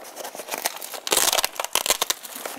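Cloth panel being folded back and handled on its frame, producing close crinkling and rustling that swells into louder, sharper crumpling bursts, with no talk.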